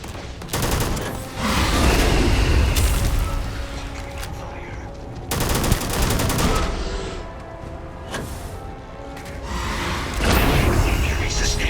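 Gunfire in the video game Starfield, loud sustained bursts of automatic shooting in several waves separated by brief lulls, with voices shouting over the combat.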